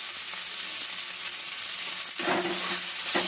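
Steady sizzling from a frying filling in a pan as Maggi masala and fresh coriander are stirred in, with occasional scraping stir strokes over the continuous hiss and no talking.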